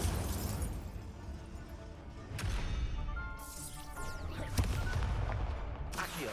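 A Confringo explosive spell from Hogwarts Legacy goes off amid battle noise, a few sharp bursts and booms over a rumbling background, moderately loud.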